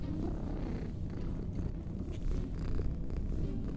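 A cat purrs up close in a continuous low, rumbling drone with a steady pulsing rhythm and no speech over it.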